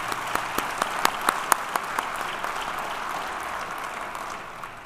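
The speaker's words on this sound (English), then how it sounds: "Let's give him a round of applause." An audience claps at a police department awards ceremony, a steady wash of applause with a few sharp nearby claps standing out, fading slightly toward the end.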